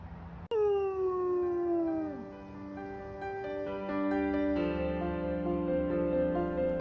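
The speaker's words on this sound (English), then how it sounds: "howl signals the end of a beautiful day" A single howl rises sharply then slowly falls, followed by a sustained tonal wail that lingers, clear and fairly close with no talking.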